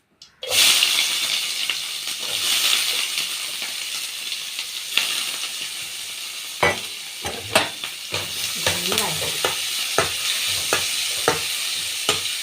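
Sliced onions and curry leaves dropped into hot oil in a pan for chicken curry, a sudden loud sizzle that settles into a constant hiss, broken by several clacks and scrapes of stirring.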